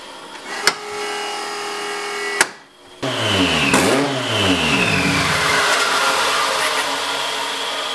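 A K-swapped Toyota MR2 engine fires up for the first time and revs hard, a loud close rising and falling roar with sweeping pitch after a brief cut, steady running throughout.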